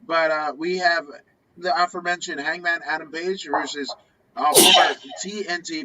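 A single sharp sneeze bursts out after a stretch of someone talking, loud and close, followed by more speech.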